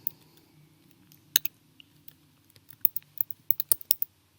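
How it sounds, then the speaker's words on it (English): Keys clatter on a computer keyboard as an SQL insert query is typed. Sparse single clicks lead into a quicker burst of close, crisp keystrokes near the end, with a faint hum underneath. "Here we are typing in insert query in the customers."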